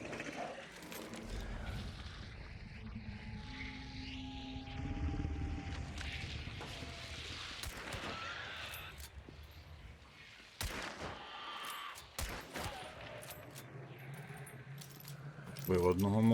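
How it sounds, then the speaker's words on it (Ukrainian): Sharp gunshot bursts ring out in the video game Hunt: Showdown 1896 among clattering, jangling mechanical noises and a low rumbling background, with scattered impacts near the end. "Хтось стріляє."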